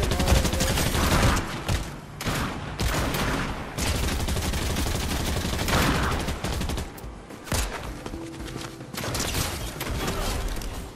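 Rapid bursts of video game gunfire fill the scene, dense volleys and single shots overlapping with only brief lulls, loud and close throughout.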